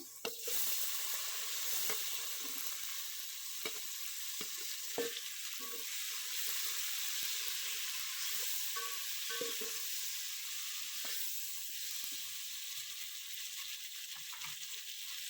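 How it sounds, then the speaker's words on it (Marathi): Tomatoes fry in a pan for egg biryani with a constant, fairly quiet sizzling hiss. Scattered soft clicks and scrapes of stirring recur throughout. "टॅमॅटो चांगला भाजून घ्यायचा आहे"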